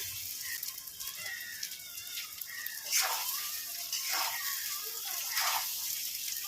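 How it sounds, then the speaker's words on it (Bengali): Rice fries in a pan with bay leaf, cinnamon, cardamom, cloves and cumin for chicken pulao. A steady, soft hiss and sizzle runs throughout, with occasional stirring scrapes and a few louder bursts, and a person talks over it at times. "এবার চালটা আমি একটু ভেজে নেব।"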